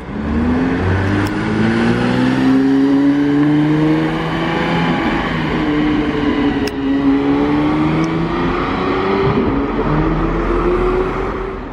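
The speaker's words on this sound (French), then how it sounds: "On a encore une Porsche, une turbo." A Porsche Turbo sports car engine revs up and down steadily with rising and falling pitch, loud and close, running continuously without talking, in a parking area.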